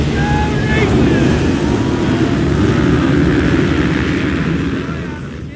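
Dirt bike engines revving at the start line of the Surfercross 2022 race, a loud, steady roar of several motors blended with wind noise that holds for the whole stretch and eases slightly at the end.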